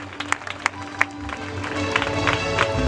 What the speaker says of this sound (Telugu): మనము గట్టిగా చప్పట్లు కొడతాము.